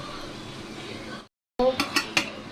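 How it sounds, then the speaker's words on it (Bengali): A metal pot lid clanks and clinks in short bright knocks as it is handled over a pot of cooking mutton, following a stretch of steady simmering noise and a brief silence. "আমি ঢাকনা খুলছি"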